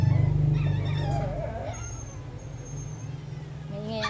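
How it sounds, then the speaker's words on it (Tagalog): A noisy, newly tied-up dog whimpers and yelps in high, wavering cries close by, mixed with a person talking at a low level underneath. "Maingay ang aming aso kasi bagong tali."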